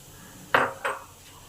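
Chili chicken is stirred in a pan: two quick metallic clinks of a utensil against the pan, close and alone.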